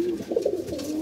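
Pigeons coo softly in a loft of an old racing breed, a brief, low, rolling burble of a nearby bird with a little background noise and no talking.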